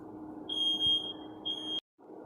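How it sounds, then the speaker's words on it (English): A smoke alarm chirps in two long, piercing high beeps over steady kitchen background noise while ramen is cooked, then cuts off abruptly. "God damn it, smoke alarm."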